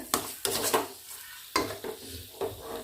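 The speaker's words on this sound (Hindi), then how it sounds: "थोड़ी देर के लिए और फ्राई करेंगे। भूनेंगे मसाला को अच्छे से।" Mutton keema masala stir-fried in a pan, with repeated scraping stirs of a spatula against the pan over a low sizzle, several distinct strokes heard up close.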